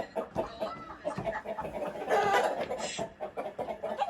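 Chickens cluck repeatedly at close range outdoors, in a busy, uneven stream of short calls that builds to a louder burst midway, with no clear talk over them.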